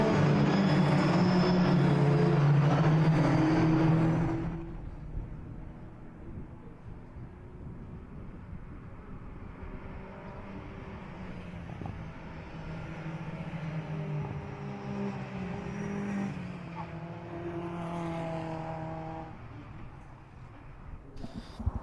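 Mitjet race cars on warm-up laps at the Riga circuit: a loud, close harmonic engine drone for several seconds that cuts away, followed by a distant, steady engine hum rising and fading under faint background noise.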